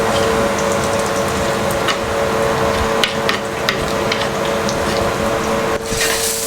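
Sardinian pork sausage, salsiccia di maiale, browns in olive oil in a pan, giving a steady close crackling sizzle with scattered clicks and scrapes throughout.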